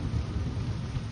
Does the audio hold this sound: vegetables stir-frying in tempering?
no